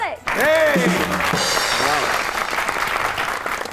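A studio audience on a comedy talk show applauds to welcome a guest, sustained loud clapping that fills the space, with a host's voice rising over it at the start.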